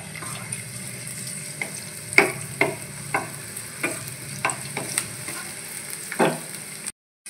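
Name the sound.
garlic being stirred and fried in hot oil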